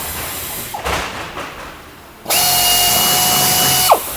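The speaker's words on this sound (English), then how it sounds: "we're going to drill out the 4 rivets that hold the TP dispenser onto the rear" A power drill bores out a rivet holding a toilet paper dispenser to a rear panel, a loud steady whine running about a second and a half after quieter scraping and handling noises, ending with a brief squeal.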